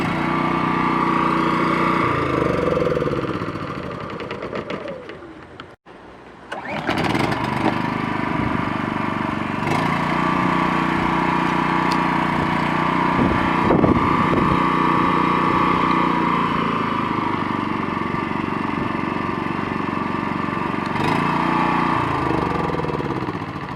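A Wen 3100 generator runs smoothly and steadily close by, its engine hum holding an even drone with a brief dip early on before settling back to a constant level.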